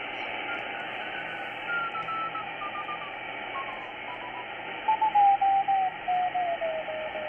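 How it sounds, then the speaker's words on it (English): W1AW Morse code practice tuned in on a Tecsun S-2200x shortwave receiver: faint, steady CW tones keying in rapid dits and dahs over a constant band of radio hiss, with no talking. "This is actually W1AW, Morse code, practice."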